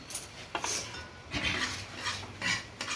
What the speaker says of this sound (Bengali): আর একটু ধনে পাতা দিয়ে একটু নাড়ি চাড়িয়ে